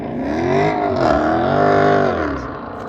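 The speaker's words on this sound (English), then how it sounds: "I heard somebody peeling out." A car accelerates hard through a city intersection at night, its engine revving up and down in a loud, sustained roar lasting a few seconds at close range, with no talking.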